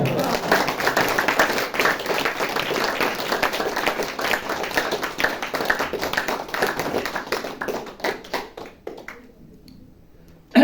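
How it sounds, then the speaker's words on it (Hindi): An audience at a Navratri camp motivational talk claps hands together in a long, dense burst of applause that thins out and stops near the end, followed by a brief sharp sound. "अभी मुस्कुराओ और तालियां बजाओ।"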